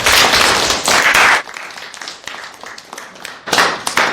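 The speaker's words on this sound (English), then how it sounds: "everybody give them a round of applause" An audience applauds after a JROTC presentation at a high school: a short, loud burst of clapping that drops to sparse, uneven claps and thumps, then swells slightly again.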